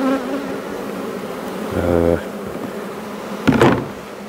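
Bees buzzing steadily around a beehive frame as the beekeeper clears them off before cutting, a close, dense insect drone with a couple of louder swells as bees pass near.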